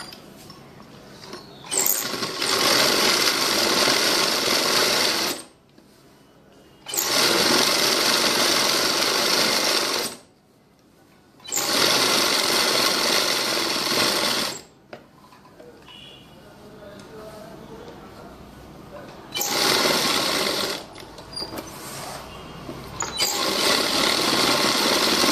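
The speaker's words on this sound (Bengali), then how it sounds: "এবার আবার সোজা দিক থেকে এবার একটা সেলাই হবে।" A sewing machine stitches a salwar kameez in several bursts of rapid whirring clatter, each a few seconds long, separated by short pauses with quieter handling sounds.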